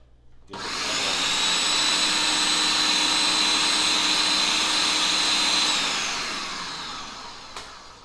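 Kitchen blender whirring through jerk chicken spice ingredients, switching on with a sharp start and holding a loud, steady high whine for several seconds before winding down near the end.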